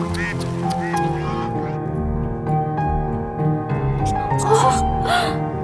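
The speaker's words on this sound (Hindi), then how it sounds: "बतख की आवाज है।" A duck quacks in a Hindi-dubbed South Indian film scene, several short nasal quacks mixed with voices, gasps and background music.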